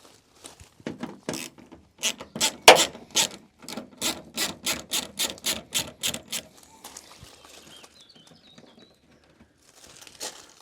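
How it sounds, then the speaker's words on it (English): A ratchet wrench works a headlight bolt loose on a Vauxhall Corsa D, a quick series of sharp, evenly spaced clicks close to the mic, followed by quieter handling noises. "The first bolt we need to remove is easy to find. It's this one here. So out it comes."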